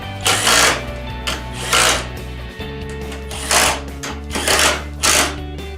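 Power drill backing screws out of a Mustang's condenser near the radiator fan, several short whirring bursts of the drill separated by pauses, close and fairly loud over a steady low hum.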